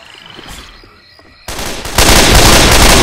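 Gunfire in the Left 4 Dead video game, swamp level: after a quiet stretch with faint noises, loud shots erupt and build into a dense, sustained volley of rapid automatic fire close by.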